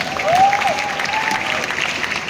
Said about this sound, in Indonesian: Tepuk tangan buat Jen Gabriel.